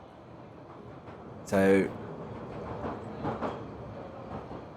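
A train rolls into a station with a low, continuous rumble and faint clatter, and a loud horn-like tone sounds briefly, while someone speaks a word over it.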